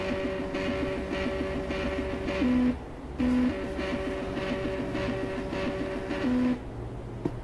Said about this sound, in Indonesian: Kemudian kita dapat mencetak hasil pengukuran dengan menekan tombol enter